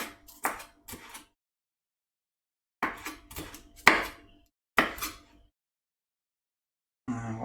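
A kitchen knife chops through pepper tops on a board, with quick clusters of sharp, near cuts separated by pauses, fairly quiet, with no talk over them.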